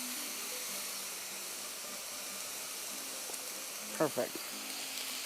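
Stuffed poblano pepper boats with their tops sizzle steadily in an oiled pan, a soft continuous frying hiss throughout, with a brief word spoken near the end.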